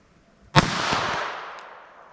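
A single .32 ACP Winchester FMJ round fired at a target, a sharp loud crack followed by a long fading echo, with no talking.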